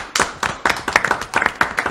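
A few people clapping by hand in a ragged rhythm, about a dozen sharp, close claps over a couple of seconds, fairly loud with no talk.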